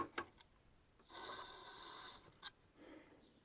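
Cleaver blade ground on a Tormek sharpening wheel, a steady rasping scrape lasting about a second and a half, framed by brief faint scratches before and after and a sharp rub as the stroke ends.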